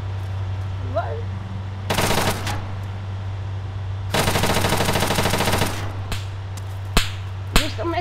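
Automatic rifle fire in the Arma 3 Altis Life multiplayer game: two long sustained bursts, the first brief and the second lasting about two seconds, followed by a few sharp single shots, loud over a steady low hum with faint voices.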